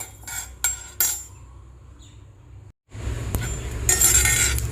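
Stirring in an iron pan: a few sharp metallic clinks and scrapes of a utensil against the pan, a short pause, then a dense, loud roasting sizzle that carries on to the end.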